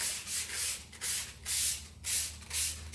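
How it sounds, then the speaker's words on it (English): Someone sands push pole ferrules with 220 grit sandpaper in rhythmic up-and-down strokes. Each pass makes a close, soft scratching hiss, about six strokes in three seconds, with no talking. "So I'm using 220 grit sandpaper."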